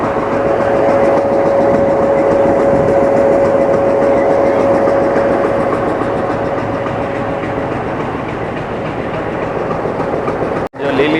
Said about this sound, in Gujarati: હવે ટ્રેન આવે ઉપડી જવાની.